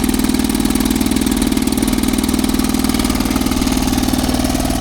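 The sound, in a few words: 1957 Sea King 5hp outboard motor idling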